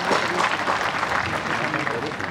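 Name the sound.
audience applause for the Vice Chancellor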